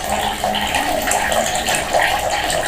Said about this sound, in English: now observe the speed of water coming out of the hole when I open